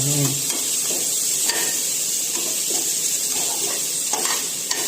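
Onions and tomatoes frying in a pan for biryani, a steady bright sizzle running throughout with occasional scrapes and knocks of stirring, close and fairly loud, no talking.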